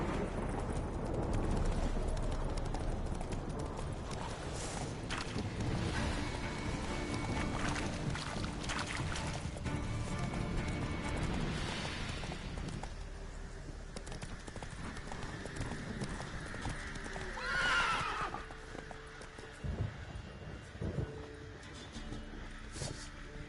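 Roach, a horse in The Witcher 3, clip-clops steadily at close range throughout, with dense ambient game sound and occasional background rumble mixed in.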